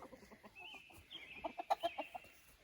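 Chickens cluck close by in a quick burst of short, bright calls, over a faint background.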